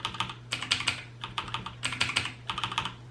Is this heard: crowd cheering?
no